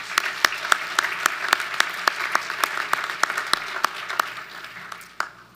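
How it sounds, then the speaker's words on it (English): A conference audience applauds the session chair at a forensic sciences plenary, a steady round of clapping with distinct sharp claps standing out over the dense patter, fading slightly toward the end. "Please give him a well-deserved round of applause"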